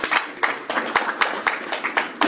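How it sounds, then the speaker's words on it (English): Audience applause at an Ohio County Chamber of Commerce meeting, a little over two seconds of distinct, fairly sparse claps in an uneven rhythm at moderate volume, with no talking. "Let's give her a round of applause."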